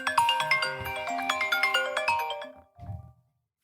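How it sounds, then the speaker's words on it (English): A phone ringtone plays a bright, melodic chiming tune for about two and a half seconds, loud and clear, followed by a short low tone before silence. "silence your phone"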